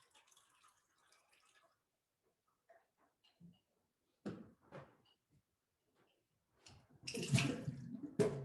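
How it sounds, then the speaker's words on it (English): Cold water poured into a plastic cup splashes in a short, close burst near the end, after scattered quiet clinks and handling noises in a still room. "200 milliliters of cold water. That's going into our plastic cup."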